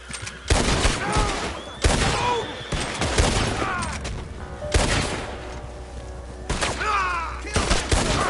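Gunfire from Red Dead Redemption 2: several loud, sharp shots at irregular intervals, each with a ringing tail. Talk and game sound run between the shots.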